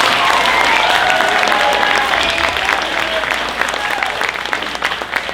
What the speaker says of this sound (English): Can we just give another round of applause to this amazing class?